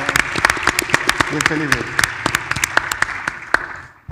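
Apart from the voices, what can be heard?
audience applause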